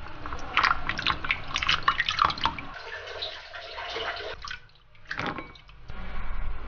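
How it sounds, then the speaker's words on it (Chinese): Water splashing and dripping as food is rinsed by hand in a kitchen, uneven bursts of running water close by with brief pauses between. "然后我们先来清洗一下"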